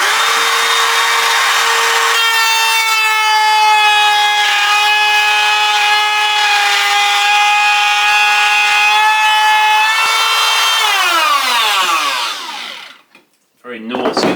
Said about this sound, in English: We can just set a router for the same depth as this.